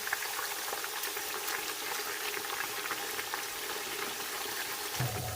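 Potato slices fry in hot oil with a dense, continuous bubbling hiss, close and steady, with faint stirring movement and a small bump right at the end.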